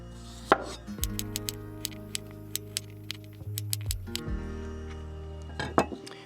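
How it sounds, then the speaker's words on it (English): Knife cutting potatoes into slices on a board while cooking out of a truck at a campsite, a string of light, evenly spaced taps and clinks, close and fairly quiet with no talking. "I will cut the potatoes in slices so it will cook faster in the water,"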